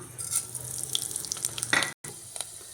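Whole spices, including cinnamon and cardamom, hitting hot oil and sizzling, with sharp crackles and pops over a steady hiss, then a brief silence before the frying resumes.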